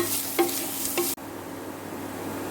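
Ginger-garlic paste and turmeric fry in hot oil, a soft sizzle with a couple of spoon scrapes before the sound cuts abruptly to quiet room tone.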